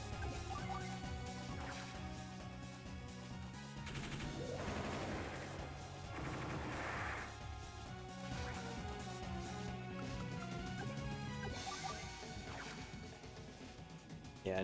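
Missile strike in Advance Wars: Dual Strike, a loud crash and smash effect set over steady game music, with several impact bursts in the middle.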